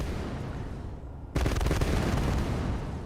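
Sustained gunfire in the video game Sonora, a dense loud rattle of rapid shots that bursts in partway through after a quieter stretch and carries on steadily to the end.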